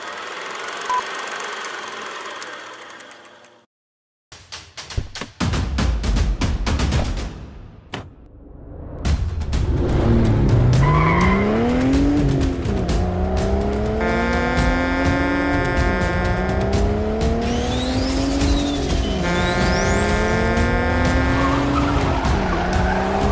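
A car chase scene with a car engine revving hard in repeated rising and falling sweeps, along with loud tire squeal and skidding; brief bursts and a silent gap come first, then the sustained engine roar with no talking.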